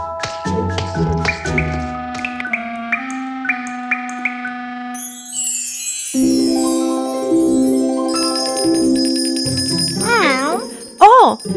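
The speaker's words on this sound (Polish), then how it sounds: "Ktoś do nas dzwoni!" A bright bell-like chime rings in a children's animated cartoon as someone calls. Repeated ringing tones come first, then a swell of music and cartoon sound effects.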